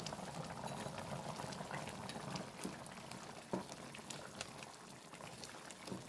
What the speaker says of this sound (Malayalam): അപ്പോൾ നന്നായിട്ട് തിളച്ച് വരുന്നുണ്ട് നമുക്ക് നോക്കാം